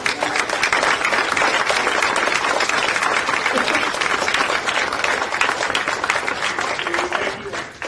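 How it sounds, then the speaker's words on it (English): A room of veterans and families at the 2024 Veterans University in Imperial, California claps for the Secretary: sustained, dense applause from a crowd that stays steady and fairly loud for the full stretch, tapering slightly at the very end. "Let's give a round of applause for Secretary."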